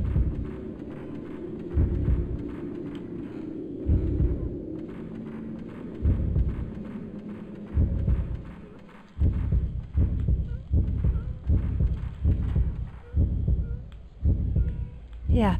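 A heartbeat in the horror game Project Zero 2: Crimson Butterfly, heavy low thumps repeating steadily throughout, loud, and quickening toward the end.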